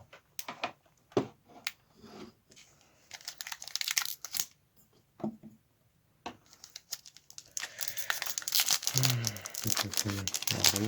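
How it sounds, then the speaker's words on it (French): A Digimon Classic Collection card booster pack wrapper being torn open and crinkled, sharp crackling plastic bursts close by, growing dense toward the end, with a person talking over parts of it. "on va s'ouvrir le premier booster"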